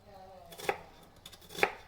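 Two crisp knife strokes slice through an onion onto a cutting board, each a sharp chop about a second apart, close and fairly quiet with no talk.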